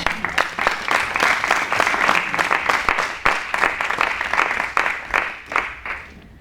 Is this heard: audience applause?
yes